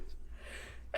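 A single brief sneeze bursts out near the end during a tabletop role-playing game session, over a quiet room background.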